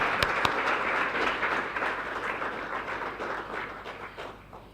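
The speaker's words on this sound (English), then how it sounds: "Let's give the minister another big round of applause." A conference audience at a SAFCEC event gives Minister Mondli Gungubele a round of applause, a dense crackle of clapping that starts strong and gradually fades toward the end.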